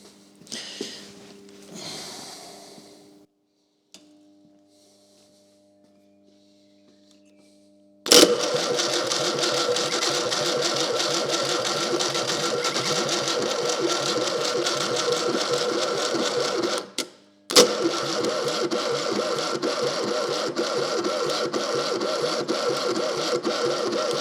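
A Fiat 600 engine turned over by a weak starter, with long, loud, steady droning cranking runs that break off briefly and then resume, close by, after some quieter mechanical clicks and fiddling at the start.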